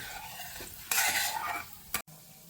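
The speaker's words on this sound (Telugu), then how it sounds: "గోల్డెన్ కలర్లో వచ్చేంత వరకు వేయించుకోండి." Mustard seeds, urad dal and chana dal fry in hot oil for a tempering, a bright crackling sizzle swelling loudly midway with a few stirring scrapes, then a sudden brief cut-off.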